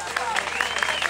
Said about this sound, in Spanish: Bailarines, un aplauso para ellos.